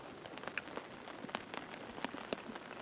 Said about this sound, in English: Rain's coming down now.